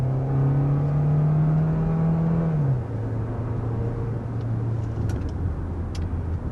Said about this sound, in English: you're hearing gear shifts, and that's because this actually does have a transmission